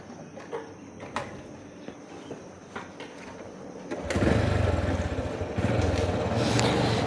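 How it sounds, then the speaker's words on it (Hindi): A motorcycle engine kicks into life after a few faint ticks and clicks, settling into a steady, loud idle rumble nearby. "ये हो गई हमारी बाइक स्टार्ट"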